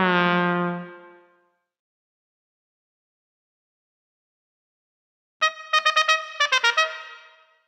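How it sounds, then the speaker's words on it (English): A trombone from a children's music game sounds one sustained low note that fades out, then after a long silence a quick, bright run of short staccato notes follows. "You found the trombone."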